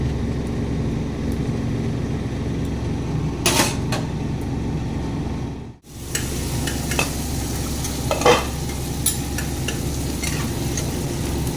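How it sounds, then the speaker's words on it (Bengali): Fried boal fish go into a hot pan of curry and are stirred, with steady loud sizzling and scraping throughout, a brief dip midway, then continued frying and occasional spoon knocks. "ভেজে রাখা মাছগুলোকেও দিয়ে দিচ্ছি।"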